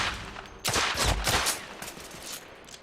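Rapid bursts of gunfire in The Order: 1886, a loud volley of several close shots crackling over about two seconds before trailing off into quieter echoing pops.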